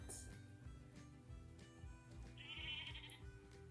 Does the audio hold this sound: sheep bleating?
yes